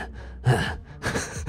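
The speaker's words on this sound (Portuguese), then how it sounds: "Ele tá respirando aqui bem pesado" Heavy, loud breathing from a character in the brawler video game Mother Russia Bleeds, close gasping inhales and exhales in two or three rough bursts.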